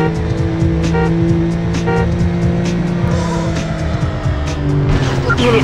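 Chevrolet Camaro racing in a police pursuit in Need for Speed High Stakes, with a loud sustained engine roar, tire squeals and skids, and a voice speaking over the racing.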